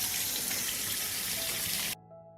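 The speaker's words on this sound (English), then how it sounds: "I will wash the peaches first, because I only use clean and healthy fruit for canning" Peaches are rinsed under a running tap, a loud steady rush of water splashing into the sink that cuts off abruptly near the end, leaving a quiet room.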